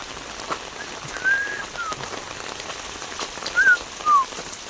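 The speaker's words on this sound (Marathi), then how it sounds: "पाऊस सकाळी आठ वाजल्यापासून लागता" Steady soft patter of monsoon rain falling outdoors in the Konkan, with a few brief bird whistles and chirps rising above it now and then.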